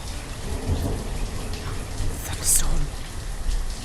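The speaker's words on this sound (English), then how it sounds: "Thunderstorm." Thunderstorm in the city-building game Banished: steady rain hiss throughout with a rolling thunder rumble swelling midway, continuous and fairly loud, no voices.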